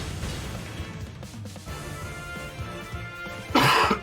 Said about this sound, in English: Very sorry if you heard that cough.